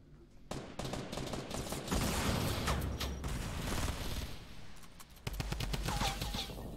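Fortnite gunfire rattles in rapid, fairly steady bursts for several seconds, loud and close, with a short lull before another heavy string of shots, and no talking.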